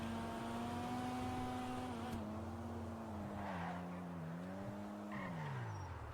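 A modified Supra in GTA 5 drives along a highway, its engine droning steadily and rising and falling in pitch as it shifts and accelerates, with a faint tire squeal and no talking.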